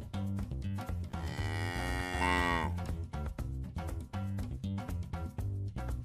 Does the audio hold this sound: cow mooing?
yes